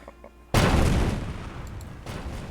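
Cannon fire erupts in a Kingdom Wars 2 battle: a sudden loud boom bursts in after a quiet moment, then rumbling gunfire and a second blast roll on in a dense, sustained volley.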